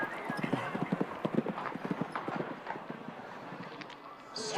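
Horse hooves thud in a quick, rhythmic canter on the arena footing during a 1.55 m show jumping grand prix, fairly close, while a commentator talks over the galloping.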